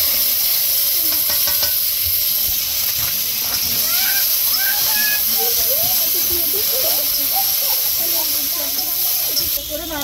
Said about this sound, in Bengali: যে মশলাটা মা বেটে রেখেছিল জিরে আর কাঁচা লঙ্কা সেটা দিয়ে দিলাম